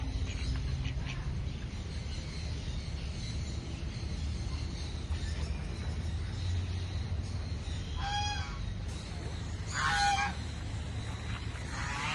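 Low rumbling background with a couple of short nasal honking quacks from ducks around the middle and later, fairly faint.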